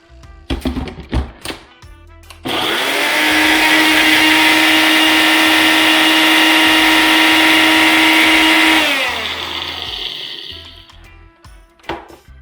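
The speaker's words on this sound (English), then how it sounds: "Actually, I need to blend it up a little bit more." A blender whirs steadily for several seconds as it grinds jerk seasoning finer, loud and close, with a few taps and knocks just before it starts and after it stops.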